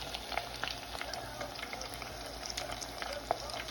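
Chicken lollipop legs dunked and frying in hot oil, a soft steady bubbling sizzle with occasional small pops, quiet and close.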